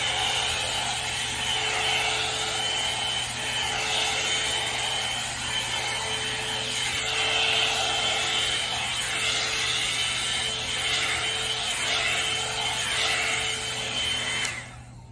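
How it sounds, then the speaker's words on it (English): A hair dryer blows steadily and loudly up close as long hair is dried while held upside down. The airflow roars in a continuous whoosh with a steady motor whine and shifts slightly as it moves, then cuts off at the end. "I did about 10 minutes like that of just like having my hair upside down and blow drying it"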